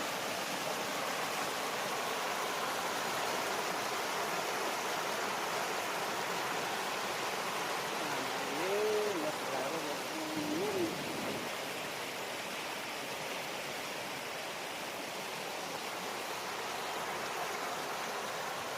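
Steady broadband rush of a waterfall and flowing stream at Than Thong Waterfall in Sangkhom, Nong Khai, Thailand, continuous and close throughout, with a brief faint tonal sound partway through.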